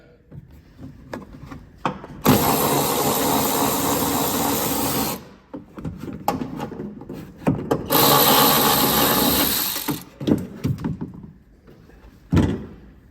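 A ratchet wrench backs out a silver bolt from a splash guard bracket on a 2022-or-later third-generation Toyota Tundra, in two sustained bursts of rapid clicking of about three and two seconds, separated by brief handling knocks.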